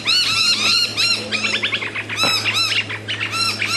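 A group of noisy miners, Australian birds, squawking and chattering loudly in rapid overlapping calls, close by and continuous, with a brief flutter partway through.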